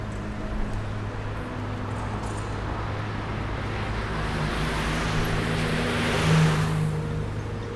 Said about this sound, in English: vehicles zoom by on the streets